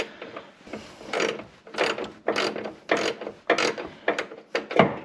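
A cheap ratchet clicks in repeated bursts while a Subaru Forester control arm is removed, about seven close, sharp ratcheting runs with short pauses between.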